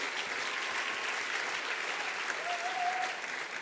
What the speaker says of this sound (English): give that a round of applause as well